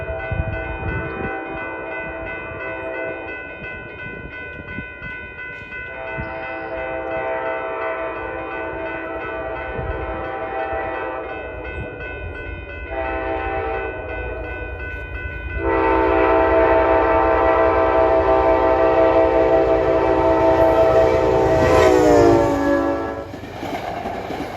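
Metro-North express commuter train bound from Grand Central to Beacon roars steadily past, its loud multi-tone horn sounding repeatedly and swelling to a long, blaring blast near the end over rumbling wheels.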